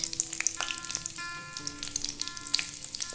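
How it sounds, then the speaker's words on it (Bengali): Cumin seeds, bay leaves, dried red chillies, cinnamon and cardamom sizzle and crackle steadily in hot oil, with sharp pops scattered throughout, close and fairly loud, no voices. "ফোড়নটা কিছুক্ষণ ভেজে নেব।"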